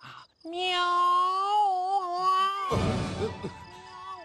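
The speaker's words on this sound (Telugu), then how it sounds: "ఎదో పిల్లి సచ్చినది దీని" A cat gives a long, drawn-out meow with a wavering pitch in a Telugu comedy film scene, followed by a loud, noisy, scuffling burst and fainter sound.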